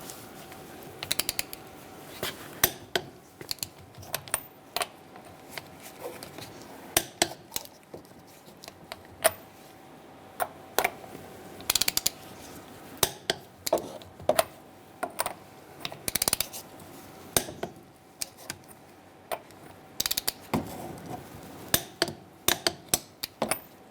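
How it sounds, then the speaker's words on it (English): A torque wrench tightens the wheel lug nuts of a Ford Ranger with a 19mm socket, giving a long series of sharp metallic clicks and clacks scattered irregularly over quiet background. "we're going to torque our wheel to 100 foot-pounds using a 19mm socket"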